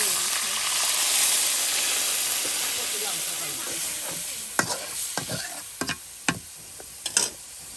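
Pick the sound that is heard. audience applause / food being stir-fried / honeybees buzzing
food being stir-fried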